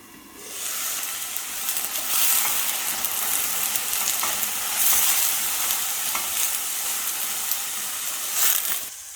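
Onions frying in olive oil in a pan on the stove, a loud, steady close sizzle that starts quietly and swells within the first second, with bursts of crackle rising and falling throughout.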